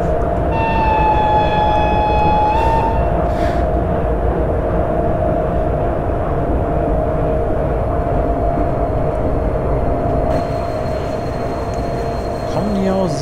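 Steady rumble of a train in Train Simulator 2013 rolling slowly through a station, with a clear horn-like tone near the start and another brief tonal sound toward the end over continuous engine noise.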